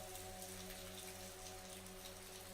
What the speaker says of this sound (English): Rain poured from the heavens, turning the ground into a muddy quagmire.